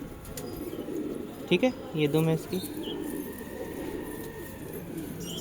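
Khourahe pigeons kept in Allahabad coo softly in a few brief calls while someone talks nearby over a faint background hum.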